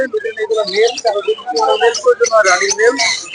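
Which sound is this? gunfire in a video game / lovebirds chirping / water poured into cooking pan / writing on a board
lovebirds chirping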